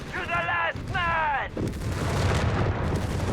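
Guns fire in the real-time strategy game Company of Heroes 3, with artillery and assault-gun shots rumbling under battlefield noise, while a voice speaks over the start.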